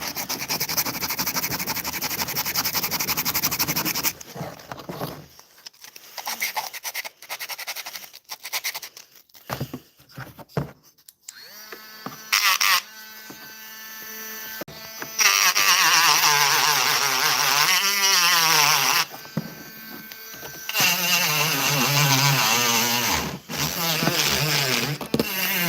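Dremel rotary tool set to speed 3.5 grinding during a painting session, a loud sustained whine that starts, stops and restarts in several bursts with rising and falling pitch, with quiet gaps between runs.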